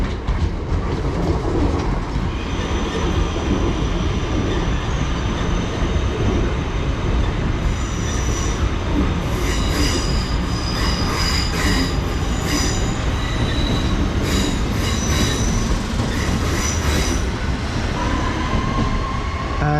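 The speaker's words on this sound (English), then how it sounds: "it's going to be the 11:37 West Midlands Railway service to Redditch from 4 Oaks" A West Midlands Railway Class 323 electric unit on the Cross City line passes steadily and close by, its wheels squealing over a constant rumbling roar and joint clicks, with no talk.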